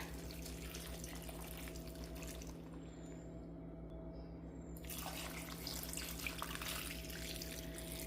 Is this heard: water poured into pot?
yes